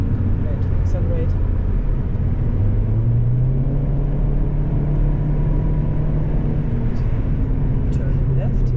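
Volkswagen Golf 7.5 GTI accelerating on the Nürburgring Nordschleife, a loud, steady in-cabin engine drone with a rising tone through the middle, heard close and continuous beneath a driver's running commentary.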